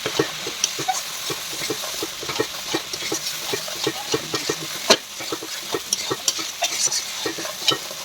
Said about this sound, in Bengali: নাড়াচাড়া দিয়ে ভালো করে কষিয়ে নিতে হবে